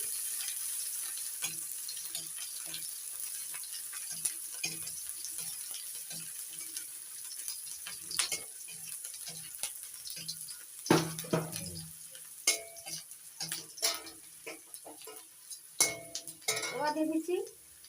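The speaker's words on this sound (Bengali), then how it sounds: "এবার দিয়ে দিচ্ছি পেঁয়াজ কুচি একটু ভেজে নিচ্ছি" Chopped onions frying and being stirred in a pan for chira polao, a flattened-rice dish: a steady low sizzle runs throughout, with irregular scraping and clanking of a utensil against the pan growing busier toward the end.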